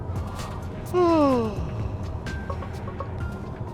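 A single drawn-out yawn inside a car cabin with a rising then falling vocal tone, close and fairly loud, lasting about half a second over steady low background noise.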